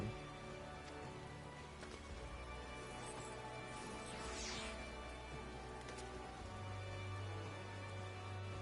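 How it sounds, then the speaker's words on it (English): Rain in the video game Final Fantasy XIV, a quiet, even hiss of falling drops that runs unbroken throughout, with faint low game ambience beneath. "Why did it have to rain?"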